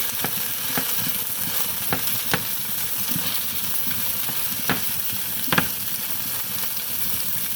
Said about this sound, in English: Just going to saute it lightly in the olive oil.